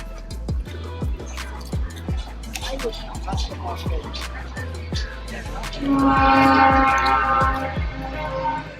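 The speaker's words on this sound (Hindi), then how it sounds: "वो रही अपनी ट्रेन, दिख रही होगी।" A train rolling through an Indian railway station, with steady rhythmic wheel clunks over rail joints and a loud horn blast near the end, nearby and prominent.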